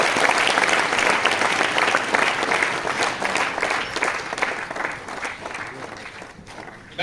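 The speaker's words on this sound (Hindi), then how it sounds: "एक बार जोरदार तालियां" Audience at an RCM business seminar giving loud, sustained applause that tapers off over several seconds, with some voices mixed in.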